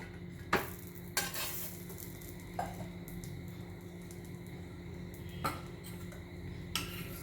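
A paneer methi paratha sizzles softly on a griddle while a spatula scrapes and knocks against the pan in several distinct clanks, close and without talk.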